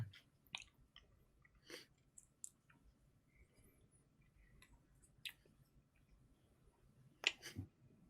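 Chewing a fizzy sweet that melts on the tongue: faint, close mouth sounds with a few sparse wet clicks and crunches scattered over a quiet background, with no talking.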